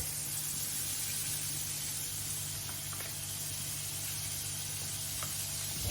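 Butter melting in a pot for homemade popcorn gives a soft, steady sizzle with faint crackles, low and even throughout with no talk.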